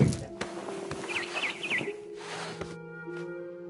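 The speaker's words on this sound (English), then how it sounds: "It was a barn swallow going back to her nest." A barn swallow chirps in a short, rapid run of bright twittering notes in the video game What Remains of Edith Finch, set over sustained soft musical tones and faint ambience.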